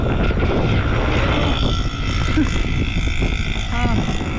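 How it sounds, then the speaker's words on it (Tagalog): Strong wind with rain roars continuously against the microphone while riding an e-bike, a dense low rumble with people talking faintly underneath. "Grabe lakas ng hangin"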